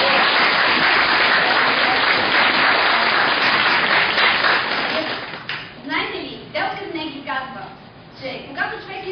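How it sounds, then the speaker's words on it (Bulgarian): Audience applause for newly certified public speakers who passed their exam, loud and sustained for about five seconds, then thinning to scattered claps as a voice begins speaking over it. "И аз моля за вашите аплодисменти."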